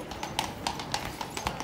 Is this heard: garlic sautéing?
no